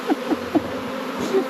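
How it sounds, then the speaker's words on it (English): Honey bees buzz around a beehive frame during a first beekeeping hive inspection, with a few brief close buzzing passes over a steady, faint background hum. "look at all the bees on here"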